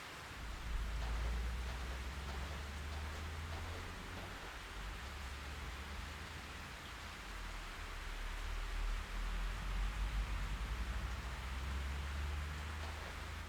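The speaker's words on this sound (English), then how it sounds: "It's raining again." Steady, soft rainfall hiss in the video game Fatal Frame 3, with a low rumbling undertone, continuous and even throughout, no voices.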